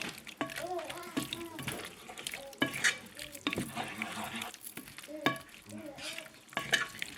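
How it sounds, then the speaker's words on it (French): A sauce with shrimp simmers in a pan, giving a soft sizzle and bubbling under scraping stir strokes and clatter, while a voice talks over much of it. "je vais laisser prendre un petit peu, je vais laisser mijoter"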